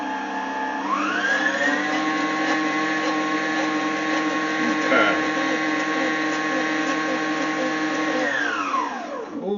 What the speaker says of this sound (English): the mixer going just for a second or two.